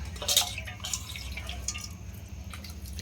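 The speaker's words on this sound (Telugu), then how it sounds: "ఇప్పుడు రైస్ అండ్ ముక్కలన్నీ కలిసిపోయేలా మిక్స్ చేసి చూస్తారు చూడండి ఒకసారి" Rice, chopped vegetables and water for village-style khichdi being mixed together, giving close, wet sloshing and dripping sounds with no talk.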